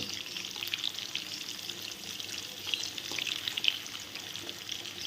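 Hot oil poured over meat in a kadai crackles and hisses in a steady, fairly soft sizzle with small pops throughout, and no one talks over it.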